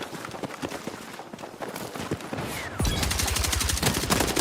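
Gunfire from above in Battlefield 6, a rooftop shooter firing down: scattered, loud gunshots give way to a sustained, rapid machine-gun burst in an even rhythm that continues to the end.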